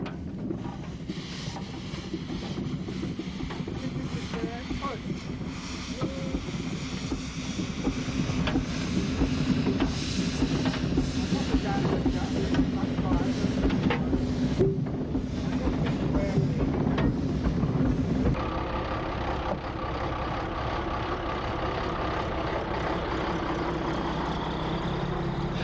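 A 1905 steam traction engine, once used for haulage, driving a saw bench and road rolling, runs at a Dorset steam fair with a steady chuffing, rumbling drone and outdoor wind noise. The sound drops in level partway through.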